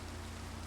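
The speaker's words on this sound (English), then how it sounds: "Freaking rain." Steady hiss of rain falling in the video game Minecraft, a short, even wash of noise with no talk over it.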